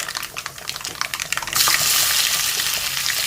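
Mustard seeds and garlic hitting hot coconut oil: quiet light crackling at first, then a loud, steady broadband sizzle takes over partway through and holds to the end.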